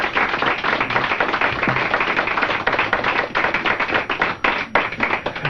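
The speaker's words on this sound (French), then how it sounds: "Je pense qu'on devrait les applaudir," Studio audience applauding on the last day of a local radio station in Sainte-Marie, Beauce: dense, sustained clapping from a room of people, steady and fairly close, with no talking over it.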